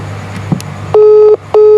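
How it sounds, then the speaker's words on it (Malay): A phone ringback tone sounds during a prank call: two loud, steady electronic rings separated by a short gap, each clean and sustained. "Berdering."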